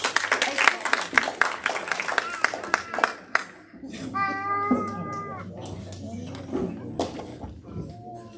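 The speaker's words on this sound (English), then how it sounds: "A round of applause to Steve." Scattered hand clapping from a small audience at a city council meeting, a brief round of applause over the first few seconds before a voice begins speaking.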